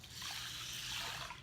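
Four cups of water poured into a pot with two cups of brown rice: a short, steady, moderately loud trickling rush with no speech.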